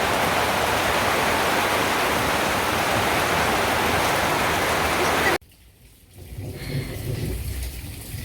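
Sudden heavy rain pours down as a loud, dense, steady roar that cuts off abruptly partway through, leaving a quieter, lower wash of rain and ambience.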